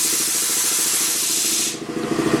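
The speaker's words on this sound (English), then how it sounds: "Hang on, compressor's running." A workshop air compressor hisses loudly in a steady rush of air, then cuts off abruptly, leaving a lower mechanical hum with uneven clatter, no talking.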